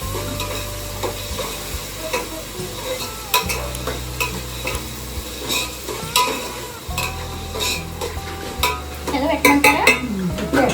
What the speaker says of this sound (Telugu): తిప్పుతూ ఉన్నప్పుడు అల్లం వేసేయాలి